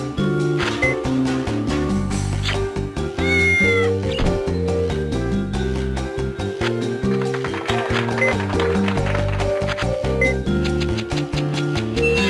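Cartoonish cat meowing and caterwauling in The Incredible Machine puzzle game, loud and repeated over busy game music and clattering effects.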